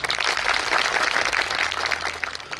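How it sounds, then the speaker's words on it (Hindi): A crowd at a political rally in Gujarat applauds steadily, a dense wash of clapping that stays loud throughout with no voices on top. "इनके लिए तालियां बजाओ एक बार"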